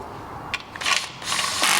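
A socket wrench ratchet clicks as an 8mm bolt is tightened on a Piaggio BV400 scooter during service, giving short bursts of close, bright clicking in a quiet workshop.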